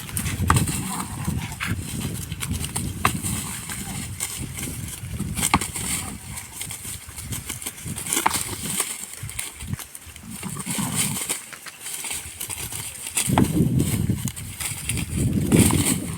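Two fighting rams butt heads again and again, sharp knocking impacts and scuffling hooves scattered irregularly across a noisy outdoor background.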